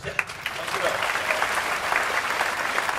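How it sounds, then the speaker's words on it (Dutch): Festival crowd on a town square applauding, a steady dense roar of many hands clapping, loud and continuous, with faint voices mixed in. "Groot applaus voor u, voor uw komst."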